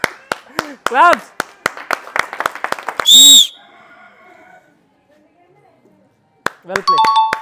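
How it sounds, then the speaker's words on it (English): Sharp, irregular hand claps ring out during a village bowl-sequence game challenge, with loud voices calling out between and over the claps, then a lull before more clapping and shouting. "Claps."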